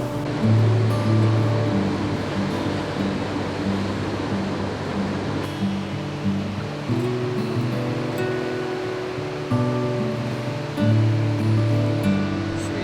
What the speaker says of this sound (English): There's a standing wave that's just kind of built from a rapid in the river here.